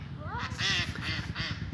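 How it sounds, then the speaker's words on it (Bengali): Ducks quacking close by on a village pond in winter, a few short nasal calls in quick succession. "আর ওই যে হাঁস হাঁসের কোনো ঠান্ডা শীত কিছুই নেই"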